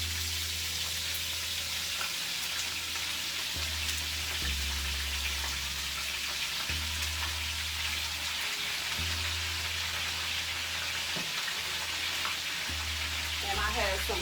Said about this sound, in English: I'm going to start putting my cabbage in the hot pan. As you can hear, the pan is hot.